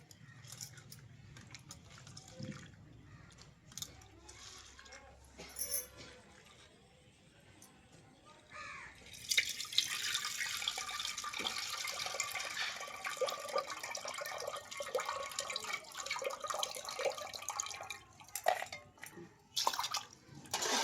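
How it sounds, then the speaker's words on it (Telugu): Peanuts and rice are washed in water, starting with soft, sparse splashes that give way to a sustained stretch of swishing and sloshing. A voice speaks intermittently over the washing. "ఇప్పుడు మనం ఈ పల్లీల బియ్యం కూడా శుభ్రంగా రెండు సార్లు అయితే కడుక్కుందామండి"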